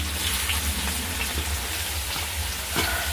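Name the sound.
chopped onion frying in oil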